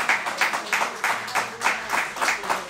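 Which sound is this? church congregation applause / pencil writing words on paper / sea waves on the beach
church congregation applause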